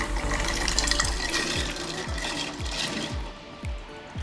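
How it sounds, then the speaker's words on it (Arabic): Rice is poured into a pot of boiling salted water, giving a steady watery rush with rhythmic bubbling pops and gurgles throughout, close and fairly loud. "هلأ من بعد ما غليت المي عندي هلأ بدي سقط الرز"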